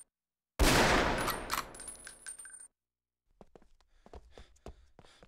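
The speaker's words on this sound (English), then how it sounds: "The sniper rifle is equipped with a scope for long-range shots." A sniper rifle in Ghost Recon: Island Thunder on Xbox fires one loud, close shot with a long rolling echo. After a short silence come fainter clicks and mechanical handling sounds.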